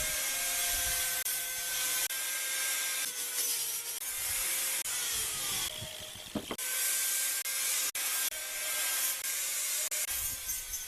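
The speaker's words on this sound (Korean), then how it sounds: "그라인딩 샌딩기로 목재의 거친 표면을 따듬습니다" A grinding sander smooths the rough surface of cypress wood boards, a constant close, loud abrasive whir and hiss with slight shifts in pitch as the tool moves, and a few brief knocks.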